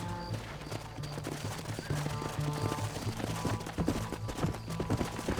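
Rapid hooves galloping in a steady drumming rhythm, with a busy game soundtrack and effects layered underneath throughout.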